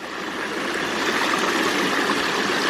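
Water rushes steadily through the intake barrel of a silt catchment micro hydro system, a dense continuous stream-like flow with no talking.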